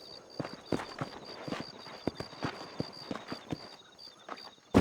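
Horse hooves clip-clop steadily at a walking pace in Red Dead Redemption, the even, close hoofbeats sounding alone against a faint constant tone, with a louder burst at the very end.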